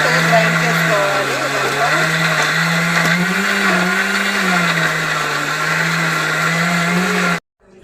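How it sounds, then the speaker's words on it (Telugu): A mixer grinder runs continuously, grinding chicken with spices, gram flour and green chillies in its jar: a loud, steady motor whine with slight pitch wavering that cuts off abruptly near the end. "మిక్సీ జార్ని మిక్సీ పట్టుకోవాలండి."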